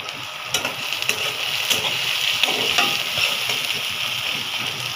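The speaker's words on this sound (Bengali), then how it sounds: "এই পেঁয়াজ ভাজার সাথে আমি এখন এই গরম মশলাগুলি দিয়ে দিব" Chopped onions fry in hot oil in a pan, with whole garam masala spices (cinnamon, cardamom, cloves and bay leaf) added. A steady close sizzle carries a few sharp pops and crackles throughout, with no talking.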